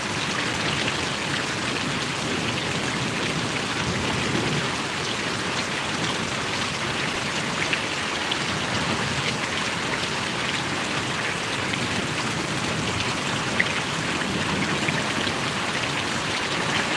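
Heavy rain pours steadily over Paravadi village in Gariyadhar taluka, a dense, even hiss of drops on surfaces that holds constant throughout without any voices.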